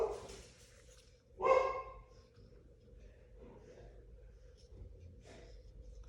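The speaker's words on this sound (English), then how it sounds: "Excuse my dogs barking in the background if you can hear that." Household dogs barking indoors during a paper-weaving craft session: one short burst of barks stands out, with a fainter yelp or two after it, all low in the background behind quiet handling sounds.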